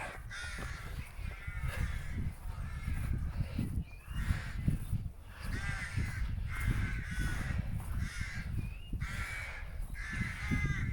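Repeated harsh cawing from several crows in trees at dawn on the Hill of Tara, a rhythmic chorus of calls fairly close and loud against a low outdoor rumble.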